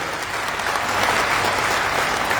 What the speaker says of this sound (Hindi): कम से कम एक बार जोरदार समाज के लिए तालियां आप लोग बजाइए